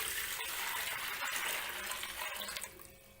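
Water pours steadily into a pot for making rice-flour khichu, a continuous splashing gush that thins out near the end.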